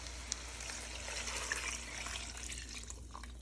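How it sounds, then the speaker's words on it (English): Water pours steadily into a pot of taco soup, a quiet continuous splashing trickle lasting several seconds with no talking. "I'm going to add 4 cups of water."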